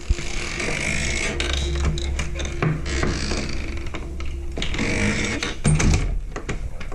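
Metallic clicks and scraping as a door lock is turned and latched, close by, over a steady low background hum.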